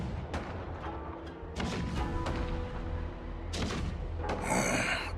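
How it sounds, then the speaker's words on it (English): Cannon fire from Conqueror's Blade, low rumbling battle booms and crashes rolling on continuously with a fuller burst near the end, a dense mid-distance wall of artillery noise. "The rumble of the cannons."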